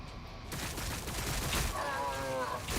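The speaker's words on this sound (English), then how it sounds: "We are taking fire!" Gunfire in the video game Warhammer 40K Battlesector, a continuous rattle of overlapping battle shots filling the scene, with a brief voice shout near the end.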